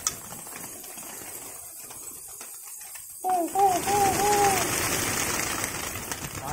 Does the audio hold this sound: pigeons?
yes